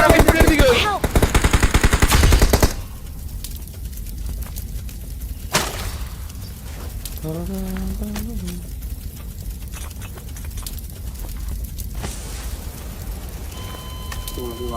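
Rapid automatic gunfire rattles in a BGMI match, a loud dense burst at the start followed by scattered single shots and distant firing, with game effects and players talking over it.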